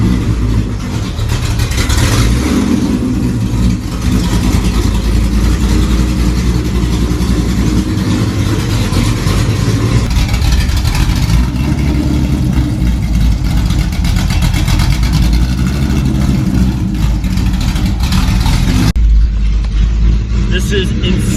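A Shelby GT500 running open headers through Pypes exhaust cutouts roars loud and close, idling with a deep rumble and blipping through repeated revs, with a sharp drop partway through.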